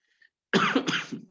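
A single cough from a man giving a lecture on labour law, close and fairly loud, with a short rough burst and a trailing second push, after a faint brief sound just before.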